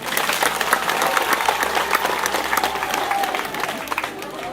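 A crowd at a lively French-speaking gathering breaks into loud applause, a thick roar of clapping mixed with cheering and voices that carries steadily for several seconds with scattered sharp claps standing out.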